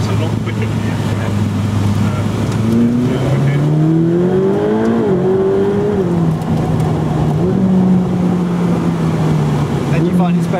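Inside a Ferrari 458 Speciale, the engine climbs in pitch through the revs, then drops sharply at each gear change, while people talk over the steady cabin noise.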